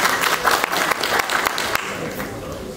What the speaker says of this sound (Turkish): Sizden tek istirhamım sahneye çıkan dostlarıma, kardeşlerime, arkadaşlarıma ve büyüklerime bol bol alkış.